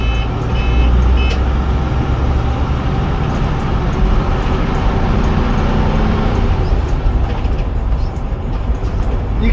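Bedford YMT bus with Duple Dominant II body, a loud steady onboard diesel engine drone with faint high beeping early on, changing gear partway through.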